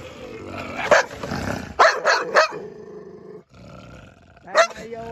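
Pitbull dogs at a rural home garden barking and growling in several loud, close bursts, with short pauses between volleys.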